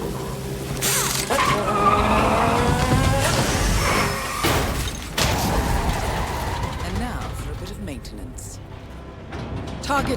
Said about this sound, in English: I'm sliding a little in the turns here, guys.